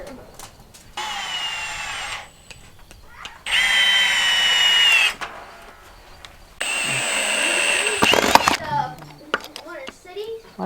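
A power screwdriver drives screws into wood during ceiling and rafter work, three loud close bursts of whining motor lasting a second or two each, with a voice speaking between them.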